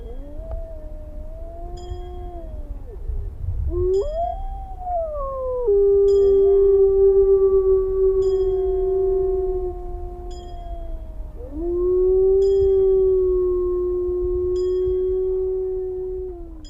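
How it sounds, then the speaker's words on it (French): A pack of wolves howls together in long, sustained, overlapping tones that rise and fall, several voices layered and steady for the whole stretch, fairly loud and close. "Nous hurlâmes"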